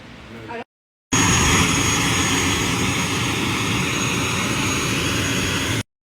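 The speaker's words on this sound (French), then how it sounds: "c'est un petit avion" The engine of a small airplane drones loudly and steadily for several seconds, a dense broadband roar with a faint high whine, cutting in abruptly after a brief quieter stretch and stopping just as suddenly.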